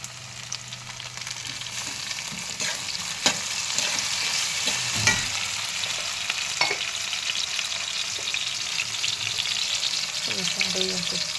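Onion and tomato frying in a pan, a continuous close sizzle with occasional scraping stirs and small knocks throughout, loud and steady with no speech.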